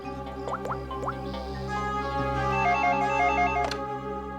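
A telephone rings with a steady electronic ringtone, a repeating tonal pattern at moderate volume that plays alone in an indoor setting.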